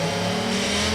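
Jaguar Grand Prix car engine on the Catalunya circuit, a loud sustained high-pitched racing scream with strong harmonic whine, heard close and continuous with no voices.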